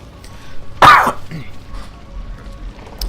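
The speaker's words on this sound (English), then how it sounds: "Yes, I've still got that cough." A single sharp, harsh cough bursts out close by, followed by quiet room noise.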